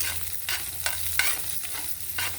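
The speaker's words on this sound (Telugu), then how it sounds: "పెరుగన్నంకి పోపు" Mustard seeds, cumin, chana dal, urad dal, green chillies and curry leaves crackle and sizzle in hot oil as tempering for curd rice, with a constant hiss broken by sharper pops and a few scraping stirs, close and fairly loud.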